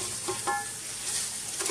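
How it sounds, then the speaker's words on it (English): Long grain white rice sautéing in olive oil gives a steady, close sizzle with faint stirring scrapes in the pan, no voices. "I'm going to saute that in the olive oil"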